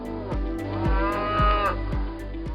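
A Wagyu cow moos in a long, low, drawn-out call, with a steady rhythmic mechanical thumping repeating underneath.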